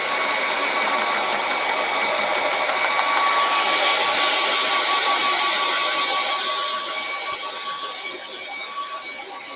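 A hair dryer drying acrylic paint on a canvas gives a loud, steady whirring blow close by for several seconds, then eases off slightly toward the end.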